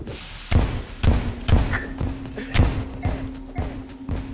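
A series of dull booming thuds from bombs exploding in Terraria, about eight evenly spaced blasts over a faint steady tone, loud and close.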